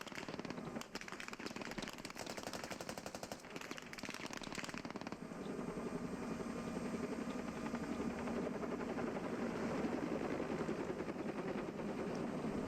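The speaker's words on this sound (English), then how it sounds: "you're gonna see a heli to your south, enemy heli" Enemy helicopter in a multiplayer shooter match, a steady whirring rotor drone filling the whole stretch, with rapid crackling shots or explosions layered over the first few seconds before the engine noise carries on alone.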